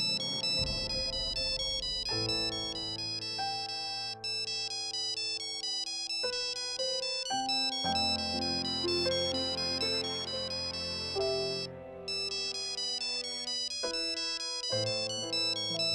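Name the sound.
phone ringtone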